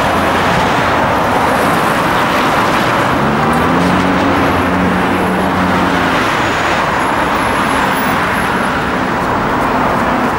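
Steady roar of car traffic passing nearby in Moscow, loud and constant, with a brief low engine hum rising midway.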